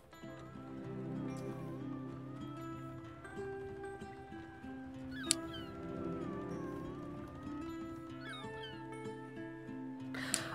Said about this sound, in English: Oh my god, the cat is singing with us!